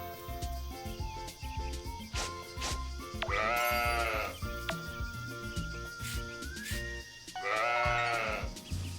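Sheep in the farming game Pioneers of Olive Town bleat twice in loud, wavering calls over light, bouncy background music and soft game sounds.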